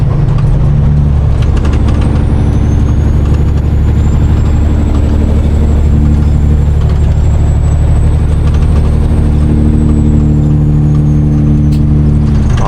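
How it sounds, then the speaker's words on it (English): Loud, steady heavy-truck engine drone with dense rattling from a loose air cleaner, continuous through the whole stretch, close and harsh with a faint high whine above. "I'm thinking it's that air cleaner that's rattling that loud right there."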